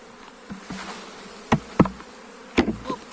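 Honeybee swarm clustered in a thorny wild pear tree, with a faint insect buzz running throughout beneath several sharp knocks and rustles of branches being handled.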